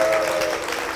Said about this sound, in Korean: 여러분 다시 한번 축복의 박수 부탁드립니다.